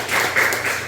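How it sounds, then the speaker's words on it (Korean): A church congregation claps briefly during a Sunday thanksgiving service, a short dense burst of applause filling the room. "우리 믿음 속에서 박수 한번 해주시죠."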